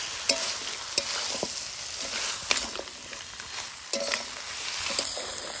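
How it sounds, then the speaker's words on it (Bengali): Crab and water hyacinth being stir-fried hard with spices in a pan, a steady close sizzle broken by a few scraping stirs and light clatters, with no talk. "এবার কাঁকড়া আর কচুরি পানায় ভালো করে অনেক কষিয়ে নিব"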